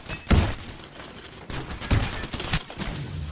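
Apex Legends gunfire plays as a few distinct close shots and thuds over a busy game background, moderately loud.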